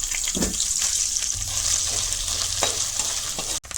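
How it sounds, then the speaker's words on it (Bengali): Grated coconut fries in ghee for a sweet basmati pulao, giving a steady, close sizzle with occasional stirring scrapes throughout, no voices over it. "নারিকেলটা দিলাম ঘির মধ্যে"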